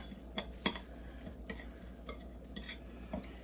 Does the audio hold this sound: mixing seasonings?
yes